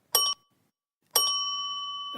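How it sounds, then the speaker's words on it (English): A countertop service bell rings close and bright: one short ding, a pause, then a second strike that rings out longer with a sustained metallic tone. "somebody ran in, rang the doorbell really fast, like rang the bell for the service really fast, then held it, and then rang it again really fast"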